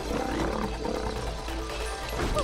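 A video game lion's roar rings out over a steady low background hum, one sustained growling call lasting a couple of seconds, in It Takes Two.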